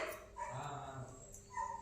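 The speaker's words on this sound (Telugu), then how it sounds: "అదే బయట చూడు, ఏదో కుక్క కరుస్తుందా లేకపోతే ఏందో చూడు" A dog barks outside a home, a few sharp yelping barks with a whimpering tone, moderately distant and fairly quiet, with faint room noise around them.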